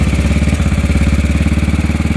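A 1956 Norton ES2 single-cylinder 350 cc motorcycle idles up close with a loud, rhythmic thumping putter, steady and even, no voices.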